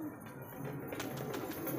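Pure white Bhutani pigeons with black eyes cooing steadily in a loft, soft low murmuring coos close by with a faint rustle of wings in the background.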